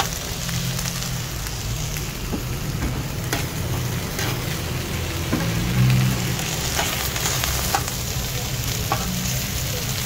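Bell pepper sizzling on a grill, a steady close crackle and hiss with faint stirring or turning sounds, continuous throughout with no speech.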